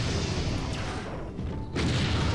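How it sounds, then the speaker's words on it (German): Heavy Paladin cannon fire from a battle in the strategy game Empire Earth, a dense continuous barrage of deep booms and crashes with a brief lull before the pounding resumes loudly. "Viele Paladin-Kanonen."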